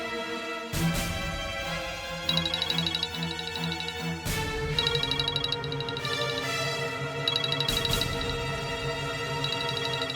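A mobile phone rings with an incoming call, its melodic electronic ringtone repeating in regular phrases, moderately loud and close with no talk over it.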